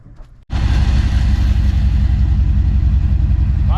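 A 1977 Dodge Power Wagon W150, left parked for twenty years, cranks briefly and fires up, then settles into a loud, steady, rough idle close by with no talk over it.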